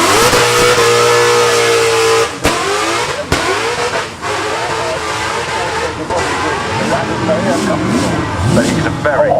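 A Nissan 370Z drift car with a 1,000 bhp turbo V8 runs at the Goodwood Festival of Speed: a steady loud engine drone, sharp breaks, then rapid revving bursts near the end, with commentary over the top.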